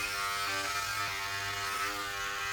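Braun Series 7 body groomer electric shaver running while shaving an underarm, a steady close high-pitched motor buzz with slight fluctuations as it moves over skin, no talking.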